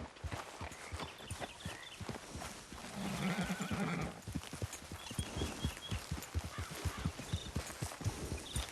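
A horse in the Red Dead Redemption 2 video game whinnies loudly while its hooves clip-clop in a steady walking rhythm close by, with no voices.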